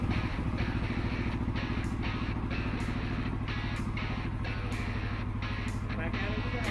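A CFMOTO CFORCE 600 Touring four-wheeler idles with a rapid, even chugging of its engine, close and steady throughout, while a person talks over it.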